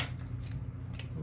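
A deck of chakra oracle cards being shuffled by hand, soft brief riffling rustles over a quiet low background hum.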